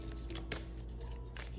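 Tarot cards being shuffled by hand, a steady papery riffling and sliding that runs continuously throughout at close range, with one sharper snap of cards partway through.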